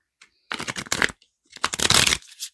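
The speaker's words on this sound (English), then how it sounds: "finishing shuffling the deck" A tarot card deck being shuffled by hand in two close riffling bursts separated by a short pause, crisp and near.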